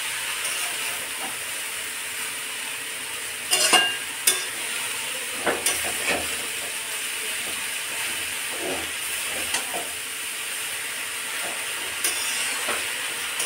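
Cut leafy greens being stirred gently in a pan for a Bengali village-style greens dish, a steady soft sizzle with scattered scraping clicks and a few louder knocks of the spatula, no voices.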